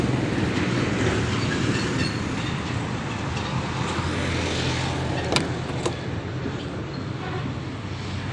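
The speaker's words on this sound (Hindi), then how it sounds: "डीजल इंजन है इसका" A 1986 Toyota Corolla diesel engine runs, up close, with a steady, loud, dense rumble and low droning hum that holds even for about eight seconds, with a couple of brief higher clicks midway.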